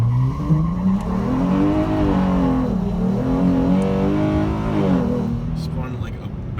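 A car launches from a standstill on a flat, sandy road, its engine note climbing through rising revs as the tires spin and scrabble for grip, loud and close throughout, with a brief voice near the end.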